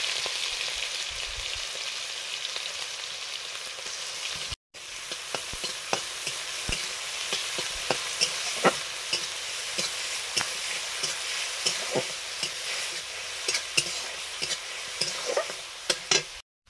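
Whole cumin, whole garam masala and chopped onion sizzling steadily in hot oil, a loud continuous frying hiss with scattered crackles and pops and a few stirring scrapes, broken by one brief pause.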